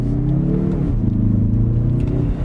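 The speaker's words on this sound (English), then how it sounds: "It accelerates so well down low" An all-wheel-drive Mazda 3 Turbo accelerates hard from low revs, a close, steady engine drone climbing through gear changes with no talk.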